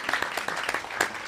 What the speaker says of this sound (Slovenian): Evo, je en aplavz!